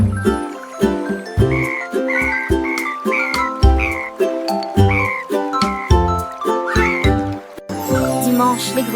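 Frogs croak in a cheerful French children's song, with a quick rhythmic run of repeated croaks over bright tinkling chimes and a steady musical backing.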